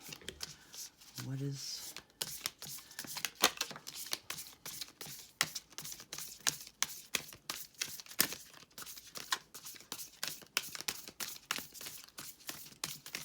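Tarot cards are shuffled in quick, crisp riffling bursts that repeat steadily and sit close, with a voice speaking briefly near the start.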